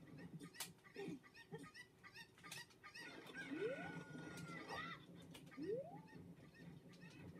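Chickens clucking and squawking in the Ocarina of Time video game, with a couple of rising cries among busy background game sounds and music.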